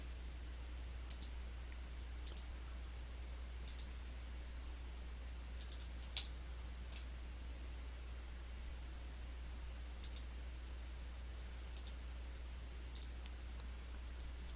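A computer mouse clicks to place path points in a game-engine editor. There are about a dozen single, sharp clicks at irregular intervals, close by, over a steady low hum, with no voices.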